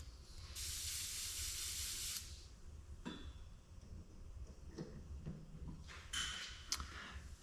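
An airbrush sprays paint in a steady hissing burst for about two seconds, close and fairly quiet, followed by faint clinks and handling noises.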